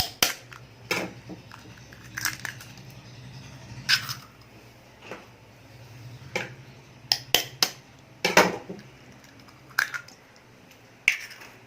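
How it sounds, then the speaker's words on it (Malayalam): Three eggs cracked one after another into cake batter in a steel bowl, giving a run of sharp, close shell taps and cracks spread across the stretch, with no talking. "ഇനി നമുക്കിതിലേക്ക് 3 മുട്ട പൊട്ടിച്ചൊഴിച്ചു കൊടുക്കാം"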